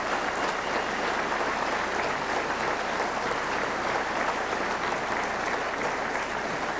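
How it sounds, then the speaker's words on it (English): A steady, dense wash of applause from a banquet crowd at a motorsports awards dinner, continuous and even throughout with no breaks or voices standing out. "A general round of applause."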